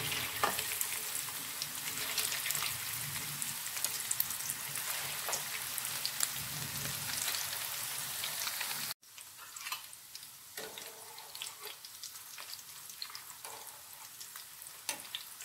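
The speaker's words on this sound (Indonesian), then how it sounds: "yuk goreng goreng goreng. Minyaknya sudah panas ya Bun, masukin." Instant-noodle-wrapped sausages fry in hot oil, a steady dense crackling sizzle that runs close and loud throughout, dipping briefly before continuing with sharper pops.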